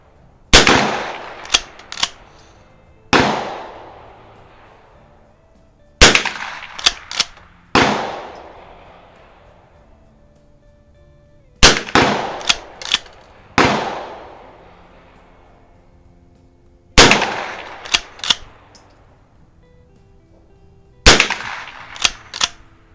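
Sharp gunshots from a nearby pistol range crack out in small bursts of two or three, with short pauses between, each followed by a brief echoing decay; loud and close.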